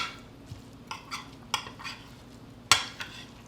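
A spoon stirs a clam rice mixture flavoured with clam juice in a dish, giving soft scraping with a few sharp clinks against the sides, one louder knock near the end, with no talking.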